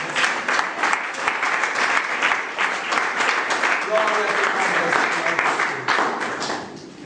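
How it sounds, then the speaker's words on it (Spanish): A church congregation applauds at a Spanish-language sermon. The clapping is loud and dense and runs steadily for several seconds with a faint cheer or voice in the mix, then tapers slightly at the end. "Le da un aplauso al Señor"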